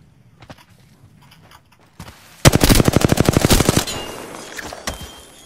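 A rapid burst of automatic gunfire from the Apex Legends shooter rattles out loud and close after a quieter stretch of scattered game sounds, followed by a few lone shots trailing off.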